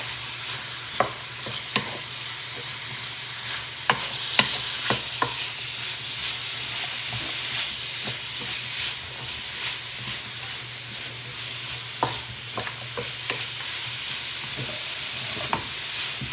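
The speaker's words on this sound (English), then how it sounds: "And I'm going to add in my mushrooms, sliced mushrooms, and the broccoli. And we're just going to saute those for about 5 or 6 minutes." Sliced mushrooms and broccoli sautéing in a pan, a steady hissing sizzle punctuated by sharp spatula scrapes and taps every second or two, heard up close with nobody speaking.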